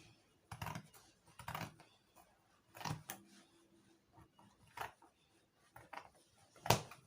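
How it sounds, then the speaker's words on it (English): Scissors cutting through doubled fabric for a ruffle or flower sleeve, giving six or seven separate crisp snipping bursts spaced about a second apart, close up and quiet with no talking. "So I'm going to cut the first one, place it on each other, and cut the second one."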